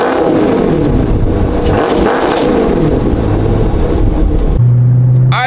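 Dodge Charger Scat Pack fitted with catless mid pipes revs hard and loud in repeated surges close by, then drops to a steady, rumbling idle near the end.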